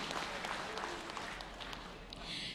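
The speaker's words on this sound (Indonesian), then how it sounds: "tepuk tangan yang meriah untuk tim panelis debat pagi hari ini" Audience applause at a 2018 public debate for the Prabumulih mayoral and vice-mayoral election, a dense steady clapping from a hall crowd lasting the whole moment without pause.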